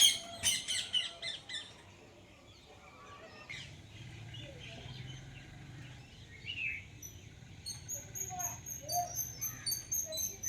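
Rose-ringed parakeets give sharp, repeated squawks in quick bursts at the start, then scattered calls over faint background noise and quiet talk.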